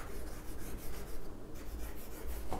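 A pen scratches and rubs across paper while notes are written for a cash book lesson, in short uneven strokes close to the microphone.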